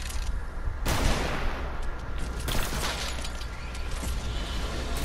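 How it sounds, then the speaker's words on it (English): Gunfire from the video game Fortnite cracks out in bursts, a sharp loud shot near the start and another later over dense, noisy game sound, with no talk heard. "Oh my god, someone's shooting me"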